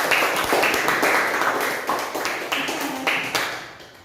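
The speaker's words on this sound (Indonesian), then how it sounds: "sekali lagi kita tepuk tangan untuk kelompok 1." Clapping from a small classroom group of students after a group presentation, a short burst of close, irregular claps that thins out and fades over four seconds.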